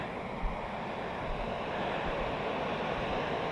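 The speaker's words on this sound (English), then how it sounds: "Oh, the falls are looking good today." Waipunga Falls, a waterfall swollen after heavy rain, gives a steady, dense roar of rushing water, continuous and fairly faint, with some wind buffeting the microphone.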